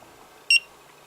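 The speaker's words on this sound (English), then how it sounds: "then the alarm begins to go off and I have no way of shutting it off" An Effeltch Bluetooth smart key locator sounds its alarm: one short, loud, high electronic beep that rises sharply over a quiet background and stops just as quickly, with no voices.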